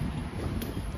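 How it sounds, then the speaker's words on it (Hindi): Outdoor wind gusts buffet the microphone in a steady, low, rumbling rush that lasts the whole second without pause. "वाह क्या मस्त हवा चल रही है"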